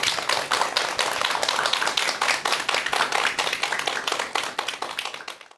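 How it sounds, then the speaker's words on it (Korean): Audience clapping to welcome a lecturer onto the stage at a talk on meditation, a dense, steady burst of many hands lasting several seconds, then trailing off at the end. "여러분 큰 박수 부탁드립니다."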